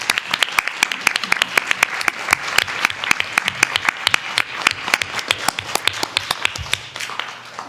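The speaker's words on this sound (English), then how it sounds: "Board President Hernandez, please join me in one more round of applause for our student scholars and their teacher honorees" Applause from an audience at a school board meeting honoring student scholars and their teachers, a steady run of sharp, fairly close hand claps that persists throughout.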